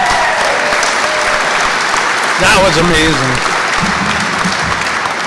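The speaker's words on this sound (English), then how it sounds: "how about a round of applause" Sustained audience applause fills a military change of responsibility ceremony, heard close and loud throughout while someone speaks briefly over it partway through.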